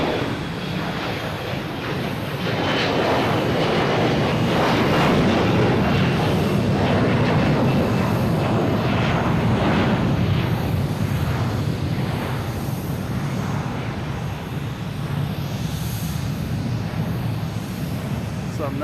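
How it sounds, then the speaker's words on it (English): Jet airliners take off at Boston Logan Airport with a broad, loud, sustained engine roar that swells and holds steady across the whole stretch, heard from nearby on the ground. "I love all those planes."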